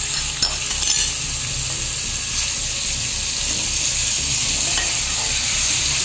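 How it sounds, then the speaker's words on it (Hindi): Minced beef is stirred into ginger garlic paste already browned in a hot pan for bhuna keema, giving a loud, continuous sizzle and hiss with occasional scraping stirs and no voices. "अदरक लहसुन का पेस्ट भी ब्राउन हो चुका है, अब हम इसमें कीमे को शामिल करेंगे।"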